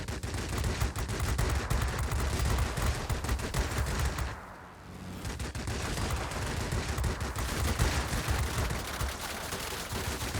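Aircraft guns on a Typhoon fighter in World of Warplanes hammer in dense, loud continuous bursts, briefly cutting off before the rapid fire resumes.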